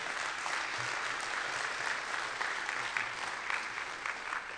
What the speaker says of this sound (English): How about another round of applause for us?